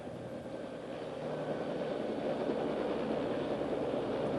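A Bell OH-58 helicopter engine idling during shutdown, a steady broadband turbine whine and rumble that grows slightly louder and then holds constant, with no voices.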